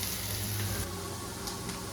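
Onion, garlic and capsicum fry in a pan with a steady, loud sizzle and occasional faint stirring clicks.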